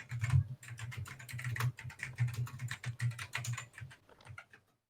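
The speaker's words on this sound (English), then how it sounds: "He's typing to him right now" Rapid typing on a computer keyboard during a live online debate call, irregular clusters of close, crisp key clicks with short pauses, no talk over it.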